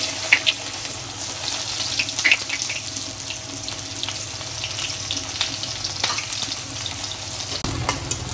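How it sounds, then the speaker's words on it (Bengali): Onions and chilies frying in lightly heated oil give a steady close sizzle throughout, with small crackles and a brief splashy burst near the end; no one speaks. "এখন মরিচ আর পেঁয়াজটা দিয়ে দিব"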